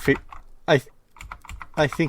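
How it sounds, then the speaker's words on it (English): Computer keyboard typing comes in quick bursts of clacking keys, close and fairly loud, with pauses and faint talk in the background. "Why are you typing?"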